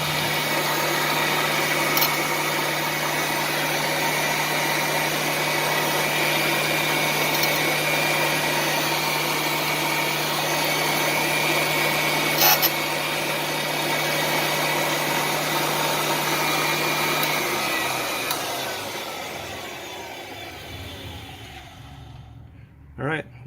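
A valve grinder works on Jeep Cherokee engine valves with a steady, loud motor whine and grinding hum that holds for about eighteen seconds, then winds down and fades, ending with a faint click.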